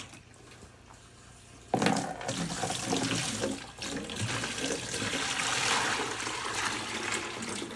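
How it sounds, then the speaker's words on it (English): Dirty citric acid cleaning solution pours and splashes steadily into a basin as it drains from a laser cutter honeycomb bed, starting abruptly and continuing as a broad, rushing gurgle close by. "Drain away the dirty water,"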